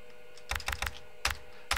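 Keyboard typing in the MHRD video game: a few sharp key clicks, an isolated burst of three or four taps, a pause, then two more separate taps, close and fairly quiet.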